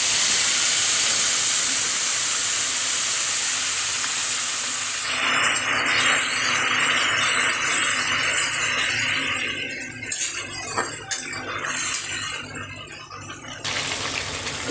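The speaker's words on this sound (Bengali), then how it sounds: "এবার আমি পেস্ট করে রাখা মশলাটা দিয়ে দেব।" Ground spice paste hitting hot oil and salt in a pan for a Bengali shukto, a loud bright sizzle that bursts in, then settles into a steady crackling fry that thins and flares again.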